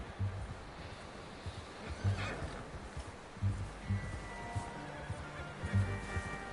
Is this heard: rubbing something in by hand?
no